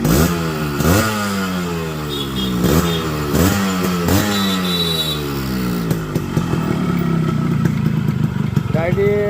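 A Yamaha RX 100 motorcycle engine is revved in a rhythmic series of rising bursts for about six seconds, then settles into a rougher, clattering idle, loud and close.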